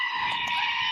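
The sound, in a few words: plastic screaming goat toy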